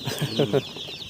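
Young chicks in a monsoon-soaked Sundarbans village peep in rapid high chirps, near and modest in volume, interrupted by a few short bursts of someone speaking.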